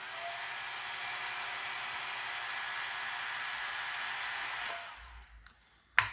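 The motor of a robot vacuum cleaner, partly taken apart, runs with a faint, steady whir for about five seconds, then spins down and ends with a small click.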